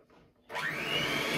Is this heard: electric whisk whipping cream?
yes